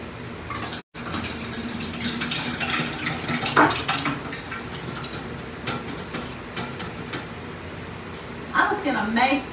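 Liquid ice cream mixture is poured steadily into a container for homemade ice cream, a continuous close splashing stream, with a voice heard briefly near the end.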